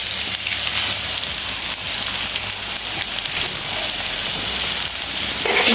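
An egg hits a hot pan and hisses in a steady, loud sizzle that carries on evenly, swelling slightly at the end, with no talking.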